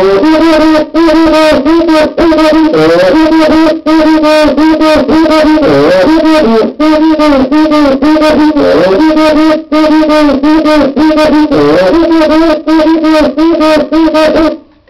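Steady rhythmic squeaking and groaning from a cuíca rubbed with a sponge while the head is pressed, pitched strokes alternating high and low in a continuous groove, played up close and loud.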